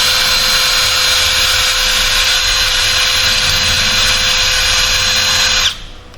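Power drill running steadily on a Ford F-150, wallowing out a hole too small for the part, a loud continuous whine for several seconds that cuts off abruptly.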